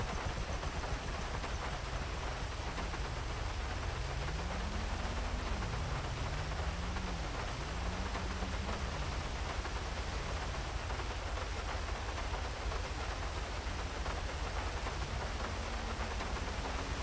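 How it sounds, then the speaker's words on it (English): Steady, even rainfall in GTA 5 hisses throughout at low volume, with a faint wavering tone drifting beneath it for several seconds. "Rain, rain, rain."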